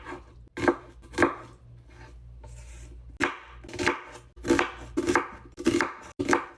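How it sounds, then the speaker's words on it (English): A knife chops and thinly slices jalapenos and onions on a cutting board, giving sharp, close knocks in irregular bursts of two or three strokes, with short pauses between. "let's go ahead and thinly slice our jalapenos and chop our onions"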